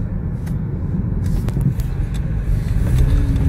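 A BMW 328i sedan runs in sport mode at high throttle, giving a steady, loud, low engine rumble heard from inside the car with a few faint clicks and rattles.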